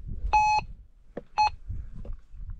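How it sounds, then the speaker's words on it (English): Metal detector sweeping over a possible find at an old silver mine site, giving two clear electronic beeps and a few shorter chirps amid soft handling noise, with no talk. "If it goes right, it should beep."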